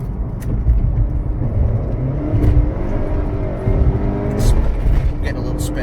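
A 2018 Honda Accord 2.0T tuned with a JB4 on Map 4 and a K&N intake accelerates hard with some wheel spin, its engine rumbling and revving up close, with a voice talking over it.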